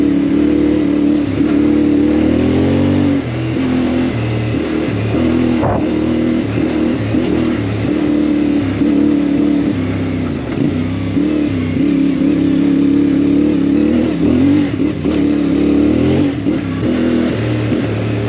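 CFMoto MT450 motorcycle engine being ridden on a winter street, revving up and down continuously with rising and falling pitch, close and loud throughout with no talking.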